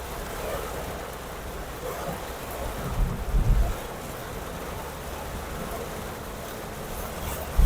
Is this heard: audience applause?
no